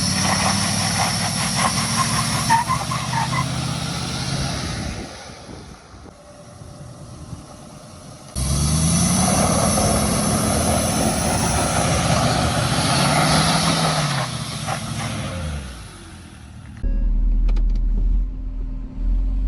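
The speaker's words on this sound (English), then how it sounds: "Why won't it do a burnout?" A damaged Ford 6.7 Powerstroke diesel pickup revs repeatedly on a road, loud and close, in rising and falling bursts with brief drops in between, as if straining for a burnout.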